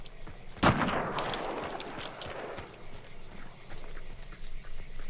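A single sharp gunshot in the video game Hunt: Showdown cracks loudly near the start, followed by a decaying rumble and faint footsteps and movement in the background.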